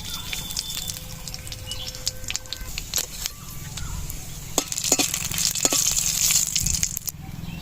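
Panch phoron spices fry in hot oil with dried chilli and bay leaf, giving a steady close sizzle with crackling pops and light stirring clinks that grow louder toward the end.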